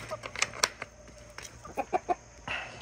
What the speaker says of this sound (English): Good evening, chickens.